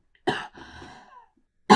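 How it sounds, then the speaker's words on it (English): A woman coughs twice, close and clear: a sharp cough, a softer breathy throat sound after it, a pause, then a second sharp cough. "I need to cough 1 second."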